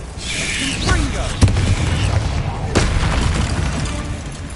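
A Confringo blasting spell in the video game Hogwarts Legacy goes off as loud booming blasts, one sharp hit early and another a moment later, over a rumbling combat background, with a voice calling out briefly.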